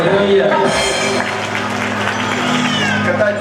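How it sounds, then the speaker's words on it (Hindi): Church congregation clapping loudly and steadily for a child during a Sunday prayer meeting, dense applause mixed with voices and a faint cat-like meow-ish squeal. "ऊपर ऊपर तालियां बजाए बच्चे के लिए, जोर से ताली बजाई।"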